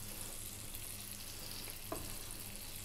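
Four or five bacon rashers fry in a pan over medium heat, a steady close, faint sizzle with a soft crackle, and no talking.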